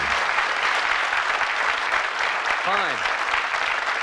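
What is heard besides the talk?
studio audience applause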